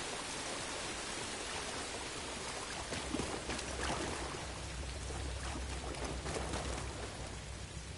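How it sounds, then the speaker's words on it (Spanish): Rain falls in the Star Wars Jedi: Fallen Order video game as a steady, dense hiss that holds even from start to finish, with no voices over it. "está lloviendo como aquí"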